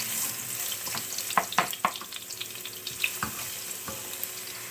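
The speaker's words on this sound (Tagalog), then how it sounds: "Kapag mainit na po yung mantika, ilagay na po natin yung ginger." Ginger sautéing in hot oil for chicken tinola: a soft, steady frying hiss with a few sharper crackles and stirring clinks, close and fairly quiet, with no speech.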